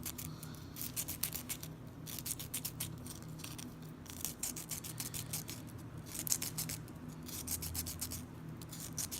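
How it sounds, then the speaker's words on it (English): Scissors cutting a piece of sandpaper, a string of crisp, rapid rasping snips and scratchy rubs close up, repeating in short bursts against a quiet background. "just cut off a little piece and then you can get in there."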